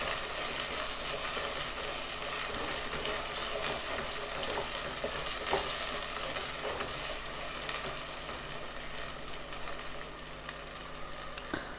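A pan of Telangana-style chicken fry with pre-boiled chicken sizzles steadily at moderate volume. The frying continues evenly throughout, with faint stirring clicks and no speech.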